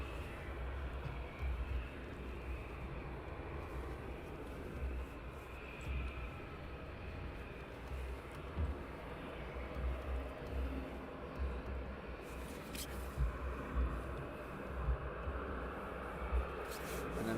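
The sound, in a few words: aircraft taxiing at Luton Airport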